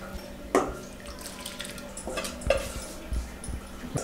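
Three tumblers of rice go into water in a pressure cooker for tamarind rice, making a few separate splashes and pouring sounds over faint kitchen background noise.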